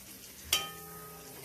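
Cauliflower curry simmers and sizzles in a pan, one sharp scrape of a spoon against the pan standing out near the start over a steady low frying hiss, with no talking.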